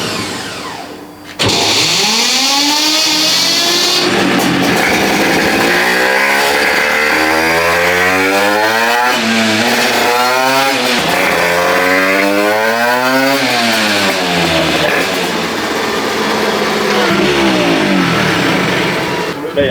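A 100cc motorcycle engine on a Shiftech dyno bench, revving hard with rising and falling pitch through repeated long pulls, loud and close, buzzing and high-strung, with voices talking over parts of it.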